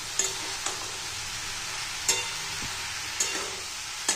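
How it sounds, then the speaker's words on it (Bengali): Taro stolons frying with shrimp in a pan, a steady low sizzle with occasional sharp clinks of a spoon stirring, no voices. "ভালো করে সিমে রেখে একদম ভাজা ভাজা করে নামাতে হবে।"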